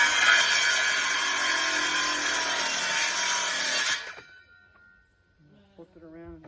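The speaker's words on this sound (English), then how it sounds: "If you don't have a battery-powered circular saw, you ought to get one." A battery-powered circular saw cuts through pallet wood for a gate, a loud close whine running steadily for about four seconds before stopping abruptly, followed by quiet handling sounds and a short voice.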